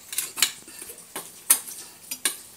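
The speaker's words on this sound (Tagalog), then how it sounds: "Haluin natin yung iba na may oyster sauce." A spoon stirs a dish with oyster sauce in a pan, making a few spaced metallic clinks and scrapes against the pan, close and fairly quiet with short pauses between strokes.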